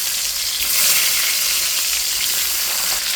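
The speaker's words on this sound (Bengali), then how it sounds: "এদিকে কড়াইতে সরিষার তেল দিয়ে দিচ্ছি, ভালো করে মাছটা ভেজে নেব" Koi fish frying in hot mustard oil in a wok, a loud, dense, continuous close-up sizzle with no talking.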